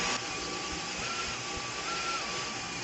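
Dyson Gen 5 Detect cordless vacuum cleaner running over carpet, a steady close whine with a constant motor drone and a faint shifting higher tone, no talk.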